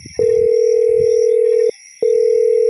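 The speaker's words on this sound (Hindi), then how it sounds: "मोबाइल बज उठा" A mobile phone rings with a steady electronic tone: one long sustained note, a short pause, then the tone starts again.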